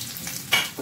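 Chopped garlic and onion frying in hot oil give a brief, steady hiss with one sharper burst of sizzle partway through; no one talks.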